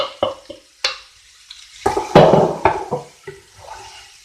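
Onions go into a pan and fry, giving irregular bursts of sizzling and splashing noise with brief clatters, close and fairly loud, separated by near-silent gaps.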